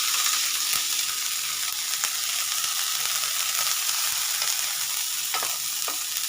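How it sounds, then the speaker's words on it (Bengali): Chopped fenugreek leaves and green peas fry in a pan, giving a dense, even sizzle broken by occasional sharp clicks and scrapes of stirring. "মেথি কুচনো, কড়াইশুঁটি নাড়বো যতক্ষণ শাকের জলটা শুকিয়ে না যায় ততক্ষণ আমি এটাকে একটু ভেজে নেব"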